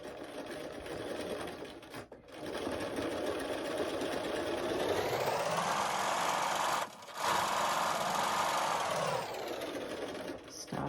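A sewing machine stitches down the seam of a lunch bag, a steady motorized whir running close and continuous, briefly stopping twice before resuming.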